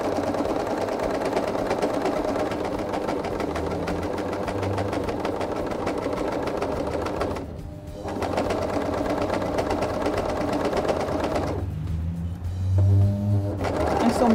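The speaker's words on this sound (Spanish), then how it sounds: "Paño polar que es bastante gruesito y la máquina sin ningún problema lo está llevando" A sewing machine runs at a steady, fast mechanical whir as it stitches thick polar fleece fabric, slowing briefly twice.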